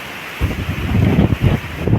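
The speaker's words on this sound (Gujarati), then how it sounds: "ટાઢો પવન આવ્યો" Cold gusty wind blowing before rain, buffeting the microphone in loud irregular rushes that swell after a quiet start, with no voices.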